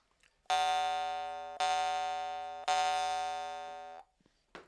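Three bright plucked twangs from an Iverson munnharpe jaw harp tuned to E2, each ringing out clean and decaying slowly before the next, close and alone with no voice.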